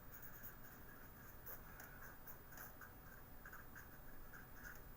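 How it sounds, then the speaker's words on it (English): Pen scratching across paper while a note is written by hand, a soft continuous rasp broken by light irregular strokes and taps, fairly quiet, with no talking. "I'm going to write this down right now."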